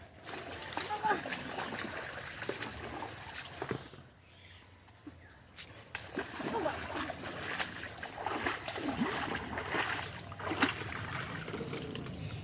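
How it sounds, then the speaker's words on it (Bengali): Taro is washed by hand in a pond, with repeated splashes, sloshing and trickling water close by, a short quieter lull partway, and a voice talking over parts of it. "কচুগুলো নিয়ে চলে এসছি, এবার একটা পুকুরে ধোবো।"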